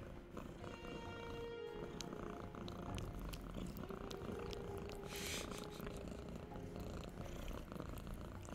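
Close, loud purring from a house cat runs without a break, a dense continuous rumble with faint small background sounds and no voices.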